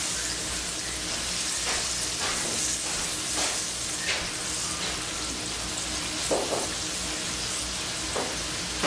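Fried okra sizzles and crackles steadily in a hot pan, a dense close frying hiss with scattered louder pops and stirring, no voices.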